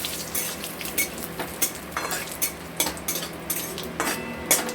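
Whole cumin and a little sugar fry in oil as a tempering for a katla fish curry with potato and taro, with metal spoon clinks and pan scrapes over a soft sizzle, close by.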